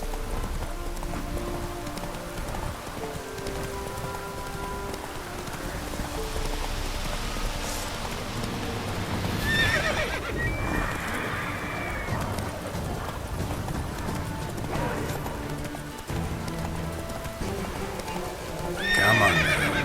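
A horse in The Witcher 3 video game whinnies and clip-clops along at a trot with rain pattering on surfaces throughout, the neighs sounding out loudly in bursts over the steady hooves.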